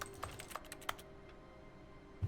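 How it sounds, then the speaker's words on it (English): Keyboard clicks in the video game The Stanley Parable: a quick burst of several soft, close taps at the start, then a quieter stretch with one more soft thump at the end. "How do I still have keyboard click sounds?"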